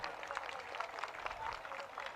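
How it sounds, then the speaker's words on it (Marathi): A rally crowd out in the open applauds, a steady distant wash of scattered clapping kept up for a couple of seconds at low level. "तुमच्यासाठी जोरदार टाळ्या होऊन जाऊ द्या"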